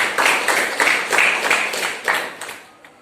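Audience applause at an Indonesian teacher-training lecture, a short burst of brisk clapping from a room of listeners, steady for a couple of seconds then tapering off.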